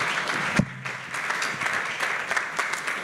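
A crowd applauds steadily at an awards gala with dense, continuous clapping, close and fairly loud, with a brief thump near the start.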